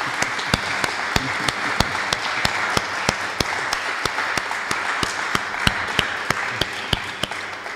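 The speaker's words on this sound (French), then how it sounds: "je voudrais quand même qu'on puisse applaudir le collège Échevinal tout entier qui nous permet d'être ici" Audience at a prize ceremony applauds warmly, a steady bed of clapping with one or two sharp, close hand claps standing out in a regular rhythm.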